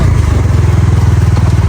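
Motorcycle ridden off-road on slippery red-mud village tracks in rain and fog, its engine a loud, close, steady throbbing drone with light rattling, no speech.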